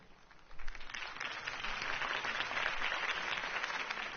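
Steady applause from a crowd at a political campaign rally in the Batman: The Telltale Series video game, rising after a moment and holding dense and even throughout.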